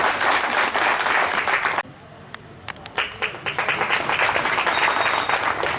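A seated audience of women at a memorial gathering bursts into loud, dense applause, which drops off for a moment and then builds back up into sustained clapping from a crowd.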